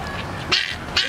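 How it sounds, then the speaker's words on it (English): Duck at a farm barn quacking twice, two short bright calls about half a second apart, close by over low background murmur. "That's the reason why he's going quack, quack."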